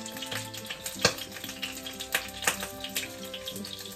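Eggplant fries in a pan on a rainy Sunday morning, giving a steady sizzle with a few sharper pops and clatters from stirring.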